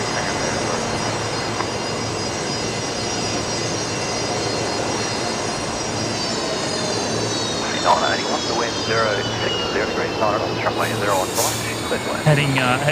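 An Airbus A320neo jet taking off from Brisbane Airport, bound for New Caledonia, gives a steady, loud engine roar that swells and shifts in pitch over the whole stretch, with people talking nearby over the noise.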